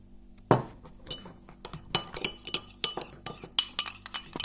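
A spoon clinks against a bowl while tomato and hot chili sauces are mixed for a pizza topping, a quick, steady series of sharp, close metallic taps with no talking.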